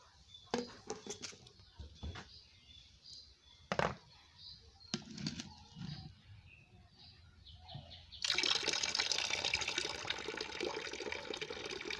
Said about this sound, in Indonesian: tapi diencerin dulu dengan dimasukin ke, dicampur di ember besar ini gitu loh maksudnya